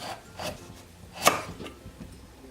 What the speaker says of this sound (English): for the butternut squash, I'm just going to cut the ends off